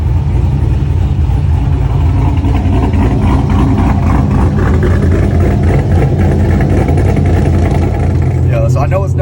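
A cammed Chevrolet Corvette C6 idles with a loud, choppy, lumpy rumble at a Street Car Takeover event in Bradenton, steady and close throughout with crowd noise around it.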